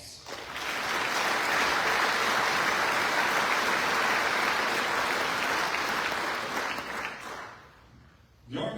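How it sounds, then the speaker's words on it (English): Sustained applause from an audience honoring Korean War Ranger veterans at a Ranger Hall of Fame induction ceremony, dense steady clapping for about seven seconds before tapering off, with a brief burst at the end. "let us recognize them with a round of applause"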